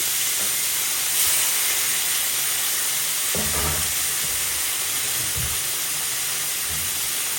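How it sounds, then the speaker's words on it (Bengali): Stinging catfish (shing fish) frying in hot oil, a close, continuous hissing sizzle with a few brief bubbling pops partway through, no talking. "এই যে তেলটা গরম হয়ে গেছে দিয়ে দিলাম মাছটা"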